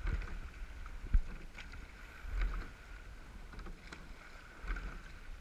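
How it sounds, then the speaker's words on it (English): A rowing crew shell glides through water during practice, with faint rhythmic swishes and knocks of oars and seats at regular intervals over soft wind noise, fairly quiet and without talk. "When we listen and feel the movement of the boat, we row better."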